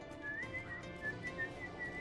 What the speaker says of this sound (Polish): Krzysiek sobie gwizda.